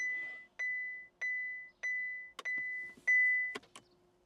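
A car's electronic beeps sound repeatedly in short, evenly spaced tones, several in a row, close and clear with a few quicker chirps near the end.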